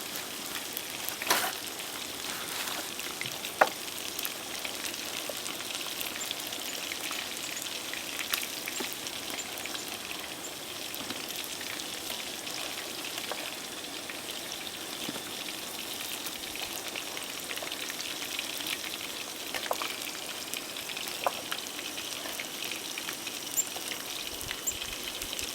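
French fries sizzle in hot oil over a camp cooking setup, a steady dense crackling hiss with occasional sharper pops, close and continuous with no talking.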